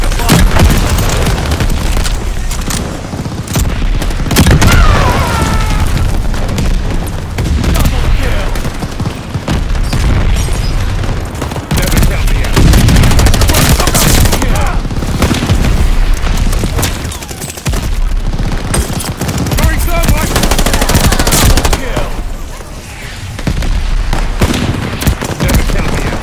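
Gunfire and bombing from a B-17 Fortress in the game Call of Duty: Vanguard, a loud, continuous barrage of machine-gun bursts and booming blasts, with radio voices talking over the din.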